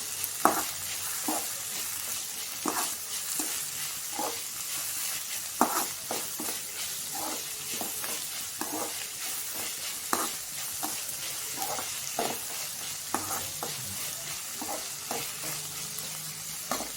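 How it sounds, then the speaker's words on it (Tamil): Tomatoes with salt sauté in a pan, a soft continuous sizzle broken by regular scraping strokes of a spatula roughly every second, fairly quiet and close. "தக்காளி வதங்கி வரட்டும்"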